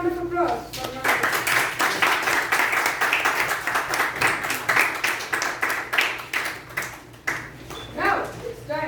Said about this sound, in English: Can we have another round of applause for Management?